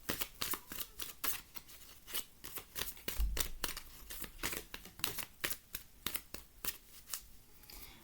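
Tarot cards are shuffled near and clearly in quick rhythmic riffles, a steady run of crisp paper snaps and flicks with no talk over them.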